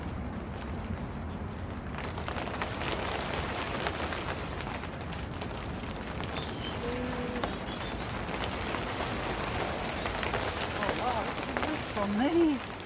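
Rain falls on an outdoor garden, a soft, steady hiss that runs the whole time, with a few faint bird calls near the end.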